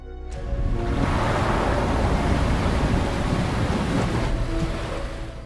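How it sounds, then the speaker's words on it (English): Tidal bore rushing in on the Qiantang River, a broad roaring wash of water that swells in quickly, holds as a steady heavy rumble, and eases off slightly at the end, with no voices. "This is the largest tidal bore in the world, the silver dragon of the Qiantang River."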